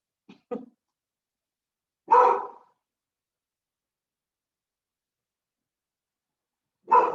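A dog lets out a couple of quick soft yips, then a fuller bark, and another bark several seconds later, each isolated against silence.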